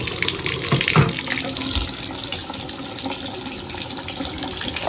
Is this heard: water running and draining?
yes